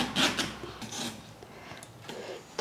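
A raw plantain sliced in two with a knife for bajji, giving a close, rasping, scraping cut that lasts a couple of seconds, with no talking.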